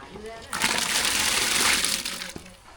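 Lentils and tomato drop into a pot of boiling water for sambar, giving a sudden splashing slosh that lasts under two seconds over the quieter bubbling of the pot.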